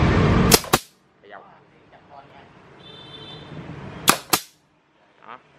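A used pneumatic nail gun is test fired, giving two sharp double bangs a few seconds apart with hissing air, while a voice talks quietly in between.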